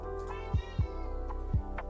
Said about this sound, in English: You can probably hear my cat screaming in the background for food